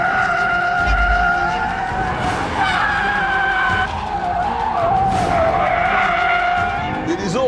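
A Ford Focus RS500 accelerates hard with its turbo engine roaring and tires squealing and skidding, loud and close, continuous over several seconds.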